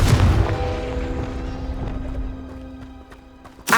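Confringo fire spell from Hogwarts Legacy exploding: a heavy, booming blast that decays into a long rumbling tail with faint crackles, followed by a sharp new impact at the very end.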